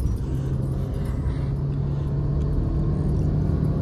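Steady low engine rumble and road noise from old and new Maruti Swift cars running side by side in a drag race, a constant droning hum with no breaks.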